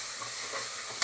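Egg biryani masala fries and gets stirred in a hot pan, a soft continuous sizzle with a brief scrape of the spoon near the end.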